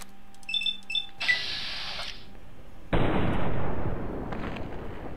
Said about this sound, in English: Let's try for some long-range VATS shots once he gets in range.